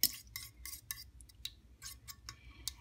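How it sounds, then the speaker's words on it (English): A fork clinks and scrapes against a crockpot while mashing cube steak into gravy, giving a quick series of light metallic taps and scratches with short gaps between them, close and fairly faint. "I like a fork so I can kind of smash this stuff up."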